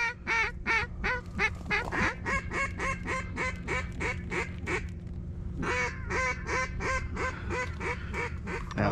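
A black duck over open water during a duck hunt gives rapid runs of loud, nasal quacks in long rhythmic series with a brief pause midway, close and clear with no talk.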